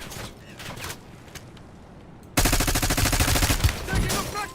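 Video game gunfire, starting with scattered distant shots and then breaking into a sudden loud, sustained burst of rapid automatic fire up close.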